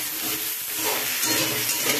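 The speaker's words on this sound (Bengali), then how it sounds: "আনাজগুলো ভাজার সময় একটু নুন দিয়ে দিচ্ছি, তাহলে তাড়াতাড়ি আনাজগুলো সেদ্ধ হয়ে যাবে" Vegetables fry in a pan after a pinch of salt goes in, giving a steady broadband sizzle with soft stirring scrapes over two seconds. No one talks.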